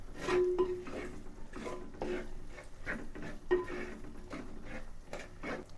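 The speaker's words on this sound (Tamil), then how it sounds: "எல்லா மசாலையும் எண்ணெயில சேர்ற மாதிரி கிண்டி விடணும்பா" A spoon stirs masala with onion and pepper powder through oil in a pan for chicken pepper fry, making repeated soft scraping and clinking strokes that are close and low in volume, with no voices.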